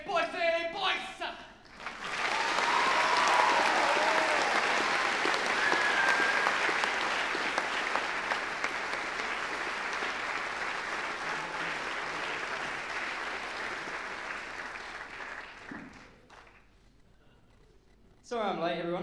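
A school hall audience at a college house music competition breaks into long, loud applause for the co-MC. It swells quickly, holds for about twelve seconds, then fades, with a voice briefly heard before and after.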